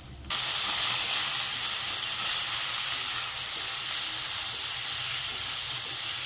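Tomatoes hit a hot pan for a tomato and chana dal kootu, setting off a sudden loud sizzle that keeps hissing steadily and fades only slightly.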